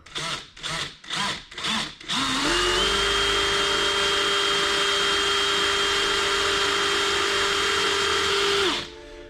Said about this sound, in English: drilling, make sure you've got a little pilot in first, right through the center of the piece with a pilot drill